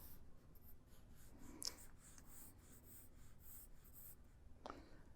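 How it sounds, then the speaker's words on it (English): Soft, continuous scratch of a pen or pencil drawing a car's belt line on paper for an SUV sketch in perspective, quiet and close, with a couple of brief sharper strokes and no voices. "Now I'm going to draw my belt line."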